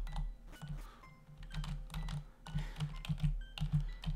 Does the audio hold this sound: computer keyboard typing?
yes